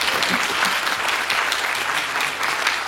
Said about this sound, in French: Un tonnerre d'applaudissements pour Nicolas Viard.